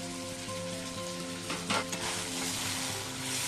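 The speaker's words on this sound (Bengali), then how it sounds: "আবার এটা 4-5 মিনিট ভালো করে কষে নেব চিকেনের সাথে।" Chicken fries in a pan with sour yogurt and roasted spice mix, giving a steady, close sizzle with a brief burst of louder crackling midway.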